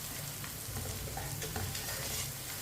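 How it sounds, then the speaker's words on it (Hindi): Crushed red chilli and turmeric frying in a pan while being stirred, a steady close sizzle with soft scraping strokes running throughout. "1 चमची कुटी हुई लाल मिर्च। आधी चमची हल्दी पाउडर। मसालों को 1 मिनट के लिए पका लेंगे।"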